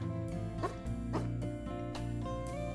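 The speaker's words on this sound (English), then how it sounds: "I think we have to bark, right?" A wolf barking in the video game WolfQuest: a couple of short yipping barks heard over a steady, tonal music track, with no talk.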